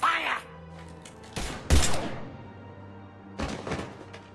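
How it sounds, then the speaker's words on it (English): Gunfire in Mass Effect 3 during a Citadel side mission, several heavy blasts and thuds in quick bursts with brief gaps between them, following a spoken order. "Now open fire!"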